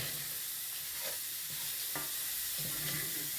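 Leftover chicken filling seasoned with salt and pepper being stirred in a pan, a soft steady sizzle with a few quiet scraping strokes, close but faint.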